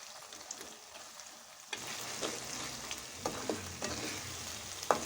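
A spoon scrapes and stirs dal and mango into khichuri in a cooking pot, a near soft clatter with a few sharper knocks over a low sizzle, quiet at first and then steady.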